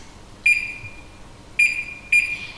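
An oven control panel beeps while bake is being set to 400 degrees: three short, clear electronic tones, one alone and then two close together, in a quiet kitchen.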